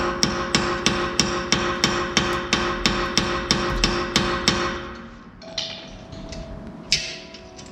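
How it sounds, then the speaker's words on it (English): A hammer strikes the rear brake rotor of an Audi A4 B8 in a rapid, even series of sharp metallic hits with a ringing tone. The blows stop about two-thirds through, leaving quieter clatter and one louder knock. "I like to just take it, kind of shock it with the hammer"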